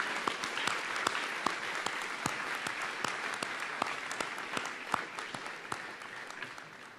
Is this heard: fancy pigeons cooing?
no